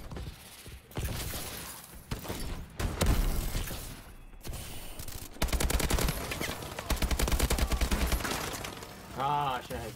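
Rapid automatic AK rifle bursts in Call of Duty: Advanced Warfare, loud repeated volleys in several bursts across the stretch, with brief mechanical clicks and a voice talking over parts of it.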